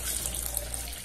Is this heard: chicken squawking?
no